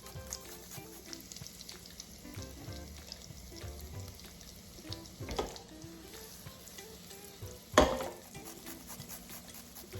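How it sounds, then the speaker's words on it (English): Butter sizzles in a pan with two cloves of grated garlic frying, a steady faint crackle broken by a few brief utensil clinks. "I am going to use 2 teaspoons of butter, and I'm going to go ahead and grate in 2 cloves of garlic"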